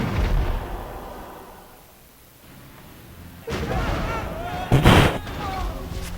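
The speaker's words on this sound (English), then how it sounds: "these tanks are going on a rampage." Tanks attacking in Civilization Revolution: booming artillery-like blasts that start loud, drop away, then return with a sharp explosive burst near the end, with faint game voices mixed in.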